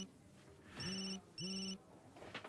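Telephone ringing in a TV drama, two short trilling rings in quick succession, close and clear over a faint room background.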